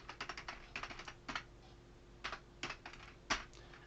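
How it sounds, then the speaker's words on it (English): Computer keyboard typing in a word processor, quick bursts of soft clicking keystrokes in short clusters with brief gaps, faint and close. "Try and type properly."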